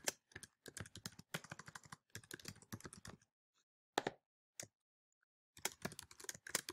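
Someone types an email address on a computer keyboard in quick bursts of close, crisp key clicks, pausing briefly between runs of keystrokes.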